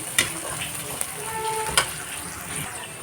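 Ghee and oil frying for a biryani, a steady soft sizzle with faint stirring clinks and a few light taps, close and continuous with no talk.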